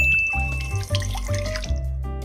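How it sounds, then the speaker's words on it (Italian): Water is poured into a small saucepan while preparing dough for Sicilian sfince, a steady, moderately quiet stream running for about two seconds with no talk. "Nel pendolino mettiamo l'acqua."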